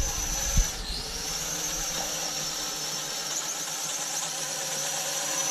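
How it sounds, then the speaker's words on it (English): Motors of a toy-grade Aurora Q39 quadcopter drone, a Mavic clone, spinning up for automatic takeoff: a steady, close high-pitched whine that begins with a brief knock and swell, then holds constant with no talk. "We hit the automatic takeoff button, which fires up the motors"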